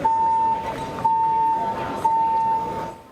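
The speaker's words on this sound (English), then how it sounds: "That sound is the fire alarm going off at 4:15 this morning." Fire alarm sounding in the Dallas Love Field airport terminal, a steady high electronic tone broken by short gaps and pulsing in repeated cycles over a noisy, echoing hall.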